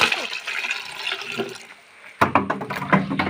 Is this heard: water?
yes